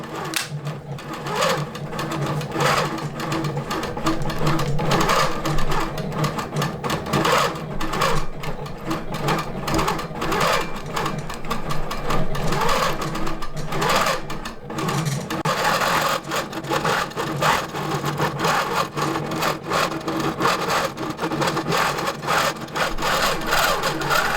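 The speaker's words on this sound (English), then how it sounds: "And it's gonna do the little lock stitch." A King Quilter II quilting machine stitches a pattern, its steady mechanical sewing drone running loud and continuous with a busy rattling texture throughout, no talking.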